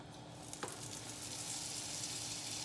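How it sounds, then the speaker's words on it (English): Beer-battered halibut fries in a pan of oil, giving a steady, dense sizzle that holds even throughout, with a faint tap near the start. "see what they look like fried up"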